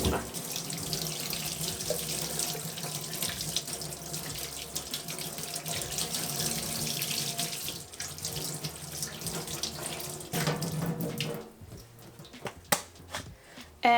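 Tap water runs steadily into a sink while a linocut printing block is rinsed clean of cleaning cream, a loud continuous splashing rush that stops near the end, followed by a few small knocks and handling sounds.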